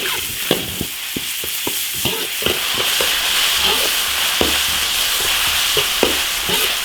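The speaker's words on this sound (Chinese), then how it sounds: "把这油炒出来， 油炒香" Pork belly stir-fries in oil in an iron wok, giving a steady bright sizzling hiss, with sharp metal spatula scrapes and taps in an irregular rhythm close by.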